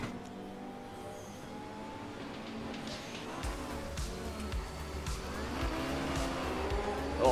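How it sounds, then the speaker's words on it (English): Race car in the RaceRoom video game launching off the front row of a ranked multiplayer grid, engine revving hard with wheel spin, rising pitch as it accelerates, with other cars' engines layered around it. "We got a lot of revs, a lot of wheel spin, and we're down to P3."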